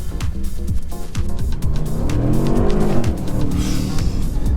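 A 2008 VW Polo 1.2L car accelerating, the engine note climbing and falling through gears as it pulls hard, loud and close with steady road and wind roar underneath.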